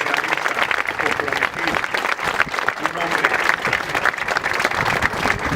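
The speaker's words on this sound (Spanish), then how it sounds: "Yo quiero que le brindemos un aplauso a Salvador Allende, extraordinario, luchador socialista" A crowd at a university gathering breaks into loud, dense applause that continues without pause, with voices mixed into the clapping.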